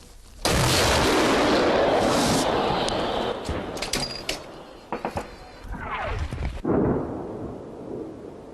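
A loud, booming artillery gun blast fires close by, followed by a long rolling echo and some rattling debris as the rumble fades, in Ukraine.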